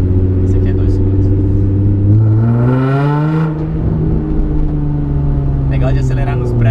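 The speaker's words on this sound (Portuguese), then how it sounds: "De acelerar nos prédios é que dá um eco gigante." A Nissan 350Z drift car revving hard in a quiet city street, the loud engine note climbing steadily then dropping back and echoing off surrounding buildings, with a voice talking over it.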